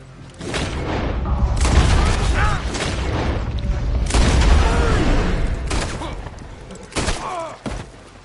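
Gunshots and heavy booms go off in quick bursts in a video game, as someone fires on a lock. The blasts come loud and close, a brief crash ends the run, and a voice is partly heard underneath.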